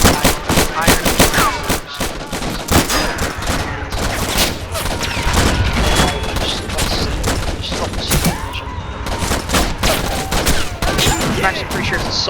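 An M60 machine gun fires in a dense, loud staccato of bursts, the rapid reports overlapping into sustained fusillade-like clatter throughout.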